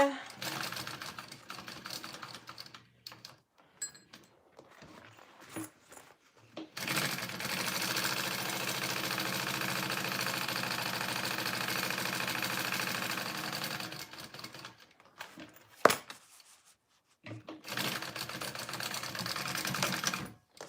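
A sewing machine stitches mini backpack pieces together in two long steady runs of close, mechanical whirring, with a short stop between them and quieter handling noises before.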